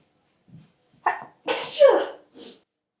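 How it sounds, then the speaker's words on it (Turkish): A person sneezes, set off by spices while kneading ground beef by hand with grated onion, carrot and potato; a small intake sound, a sharp loud sneeze burst, then a trailing exhale and a brief final breath, close up. "Baharatlar beni her zaman hapşırtır."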